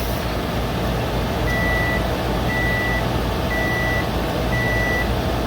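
A kitchen timer runs out while spaghetti cooks, giving four evenly spaced, steady beeps over a constant loud background hum, with no one talking.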